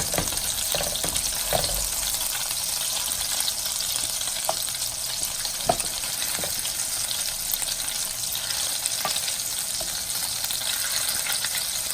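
Meatballs frying in a pan give off a steady, close hiss of sizzling oil, broken by scattered pops and faint clicks as they are turned.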